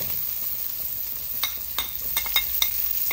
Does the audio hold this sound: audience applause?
no